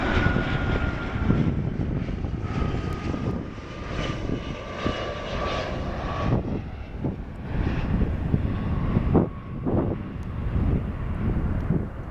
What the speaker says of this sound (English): We now have a Dassault Falcon trijet coming in.